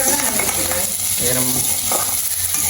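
Fenugreek seeds sizzle steadily in hot oil in a pan, a loud, close, continuous frying hiss with faint stirring clatter.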